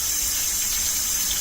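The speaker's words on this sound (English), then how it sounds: "So we're just going to turn on water and flush out anything that's inside the unit." Water rushing steadily through a tankless water heater as it is flushed out, a continuous close, broadband gushing hiss with no pauses.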